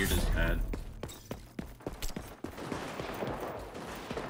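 Gunfire in the XDefiant first-person shooter, a rapid volley of sharp shots with other weapon bursts trailing off, heard under game sounds and chatter.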